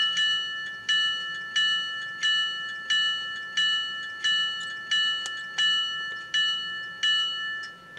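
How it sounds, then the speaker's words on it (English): Bell of a Rapido GP-9M model locomotive rings in a steady rhythm, about ten clear metallic strikes roughly one second apart, each decaying before the next, close and alone with no talk. "Okay, we'll start out with the bell."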